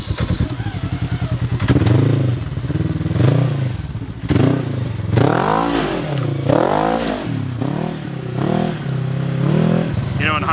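Polaris RZR RS1 side-by-side crawling over rocks, its engine revving up and down in repeated surges with clattering and thumps as it climbs, with voices talking over the engine.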